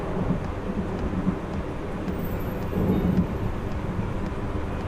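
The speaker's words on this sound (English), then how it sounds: "Big old rolling thunder." Big rolling thunder from a thunderstorm heard from inside a small aircraft on approach to a runway, a broad low rumble swelling and fading over several seconds beneath the constant drone of the engine.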